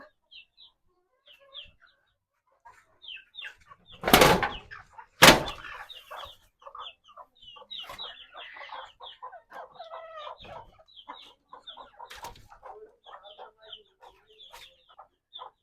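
Several chickens in a coop cluck and chatter nearby in a steady, busy stream, with two loud bursts of squawking early on and a few sharper calls later.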